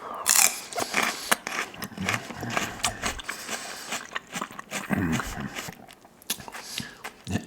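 Crisp, close crunches of raw celery being bitten and chewed, repeated in bursts with soft wet chewing between them and some quiet mouth sounds.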